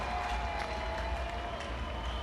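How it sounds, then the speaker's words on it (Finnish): Concert crowd at Kotkan meripäivät 2016 applauding and cheering a show, a dense steady wash of clapping with low rumble throughout. "annetaan aplodit näille äijille"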